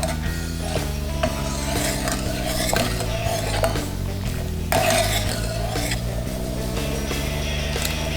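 Sweet and sour sauce with tomato ketchup being stirred in a pan, the utensil scraping and clinking steadily against the metal over a low steady tone, with no talking.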